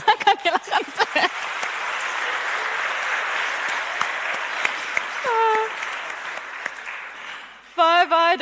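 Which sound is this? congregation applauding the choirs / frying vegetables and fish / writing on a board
congregation applauding the choirs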